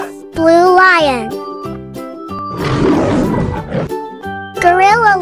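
A lion roar sound effect from a children's toy animal play scene rises as a rough, noisy burst in the middle, set between high, swooping voice-like calls before and after.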